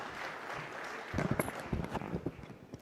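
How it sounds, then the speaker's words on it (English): Conference audience applauding for a presidential address, clapping that swells in after a quiet second and continues in uneven bursts, moderately distant in a large hall. "Can we have a huge round of applause for sir to deliver the presidential address?"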